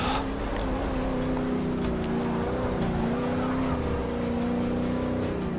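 Race car engine in Forza Motorsport 6 with a high torque setup, droning steadily at low RPM in a low gear, a loud continuous growl with slight pitch wavering throughout.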